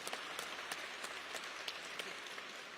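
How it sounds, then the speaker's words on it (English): Faint, distant audience applause at a press conference introducing a new college head football coach, a soft even patter with a few sharper individual claps standing out. "give Mr. Howard a warm round of applause"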